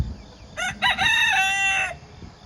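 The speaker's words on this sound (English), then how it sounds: "Ended up with 4 roosters out of the bunch." A rooster crows once, close and loud, its call rising in broken bursts before holding a long harmonic note that cuts off sharply.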